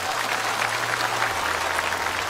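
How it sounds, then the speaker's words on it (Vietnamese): An audience at a Buddhist dharma talk bursts into sustained applause, dense steady clapping from a crowd filling the room at even loudness throughout, with no speech over it. "Một tràng pháo tay, do mình."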